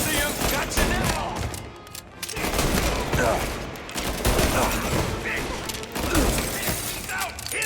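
Dense gunfire from a mob shootout in Mafia: Definitive Edition, rapid overlapping shots and bursts filling the whole stretch loudly, with brief lulls and shouted voices mixed in.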